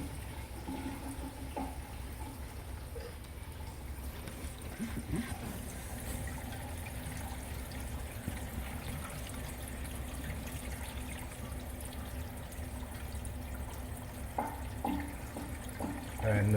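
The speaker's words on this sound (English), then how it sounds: "You can see the water levels rising." Water pours and trickles steadily into a refugium sump of a marine aquarium as levels rise after the return pump is switched off, a continuous low gurgling wash with occasional soft splashes throughout.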